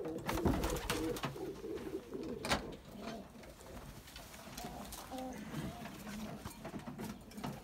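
Pigeons cooing in low, repeated throaty calls, with people talking nearby and occasional clattering and shuffling sounds around them.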